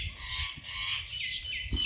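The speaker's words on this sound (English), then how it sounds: "Got all the input from the birds today." Birds chirp outdoors in a quick series of high, faint tweets and short trills, with a low background rumble underneath and no talking.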